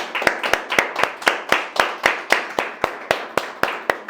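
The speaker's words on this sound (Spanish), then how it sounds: "Vamos a darle una fuerte ofrenda de palmas a nuestro Señor" A church congregation claps together in praise of the Lord, about sixteen sharp, evenly spaced claps in a steady rhythm, loud and close, with no voices over them.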